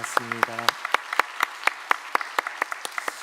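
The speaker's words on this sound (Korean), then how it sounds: "우리 귀한 찬양대 수고했는데 다시 한번 박수 한번 하겠습니다" A church congregation claps for its choir: a brief voice opens, then sparse, evenly spaced handclaps follow at moderate volume.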